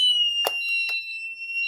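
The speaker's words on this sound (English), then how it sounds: "It will also trigger the sounder strobe." A Hikvision LoRa wireless fire alarm sounder strobe blares a steady, piercing high tone, loud and close, with a couple of brief clicks or knocks during the continuous alarm.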